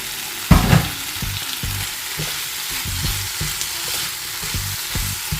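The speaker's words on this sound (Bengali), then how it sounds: "চিংড়ি আমি 2 বার কষিয়ে ফেলেছি, এবার ভাজা ঢেঁড়সটা অ্যাড করে দেব।" Prawns and fried okra cooking in a pan, steady sizzling broken by a sharp clatter early on and then a run of rhythmic stirring scrapes, with no talking.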